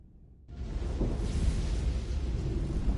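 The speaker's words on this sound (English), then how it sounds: "The storm is getting worse." A storm rumbles in the Star Trek Resurgence video game, starting abruptly after a near-silent moment and then holding as a steady, dense low roar with broadband noise.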